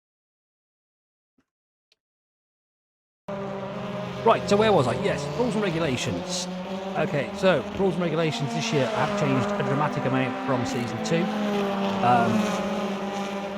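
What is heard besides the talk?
race cars driving behind the speaker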